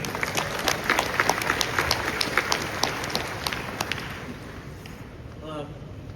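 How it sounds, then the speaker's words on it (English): Lively applause from a crowd at San Diego Comic-Con 2025, dense clapping that carries on steadily, then thins and fades near the end. "a round of applause."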